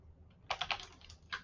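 A few quick keystrokes on a computer keyboard, faint and close, clustered in a short burst with one final tap.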